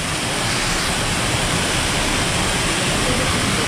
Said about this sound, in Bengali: ওই যে যে জলপ্রপাতটা বন্ধ ছিল, ওই জলপ্রপাতেরই কিন্তু অংশ এটা